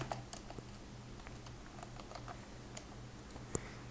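Quick, light keystrokes on a computer keyboard while writing code in Roblox Studio, irregular taps and clicks close up over a faint steady hum, with no talking.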